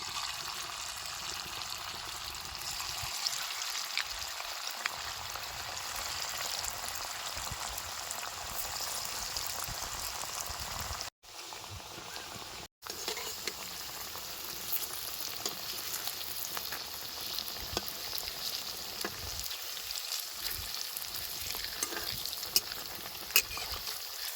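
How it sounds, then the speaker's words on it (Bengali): Dough-coated snacks deep-frying in hot oil in a wok, a steady, dense crackling sizzle that holds throughout with two brief dropouts, no voices. "কড়াইয়ের তেল ভালো মতনই গরম হয়ে গেছে এবার একে একে টিফিনগুলো দিয়ে দেবো তেলের মধ্যে"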